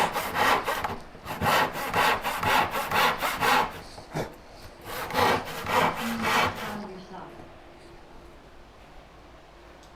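A hand saw cuts through wood in quick, even rasping strokes, two loud bursts of sawing with a brief pause between them, then the sound trails off into a quiet room.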